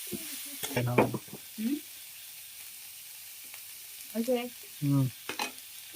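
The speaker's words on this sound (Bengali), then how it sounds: "এই তো মাংস পিস করা পিসগুলো এখন দিয়ে দেবো, এগুলো এর মধ্যে দিয়ে ভাজি করে নেবো।" Chicken meat pieces frying in a pan for meat puli pitha, a soft steady sizzle running beneath intermittent speech from a nearby voice.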